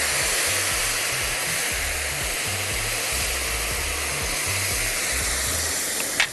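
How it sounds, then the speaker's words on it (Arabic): Water poured into a hot pan of browned, fried pasta gives a loud, steady rushing hiss that fills the whole stretch, with low clatter underneath and a brief knock at the end. "اولا بنحط الميه"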